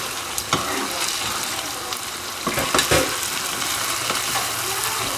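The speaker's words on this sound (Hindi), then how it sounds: "जिसमें कि हम गोश्त तल रहे हैं" Meat fries loudly in a pot for pulao, a constant dense sizzle with a few sharp clinks and scrapes of stirring.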